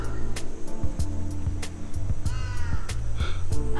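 Crows caw repeatedly and loudly nearby in a Japanese hometown street, their harsh calls coming in irregular bursts over a low engine-like hum of passing traffic.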